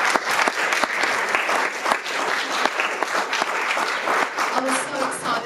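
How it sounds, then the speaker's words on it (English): An audience gives a last round of applause to a speaker at a talk event, sustained loud clapping from many hands with a few sharper claps standing out, continuing evenly throughout. "So one last clap for Julian."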